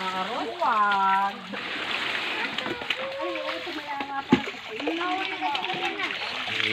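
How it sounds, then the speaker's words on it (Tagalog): Well water splashing as someone bathes outdoors, irregular sloshing and splatter running throughout beneath a child's and adults' voices talking over it. "Ligo na si Bina."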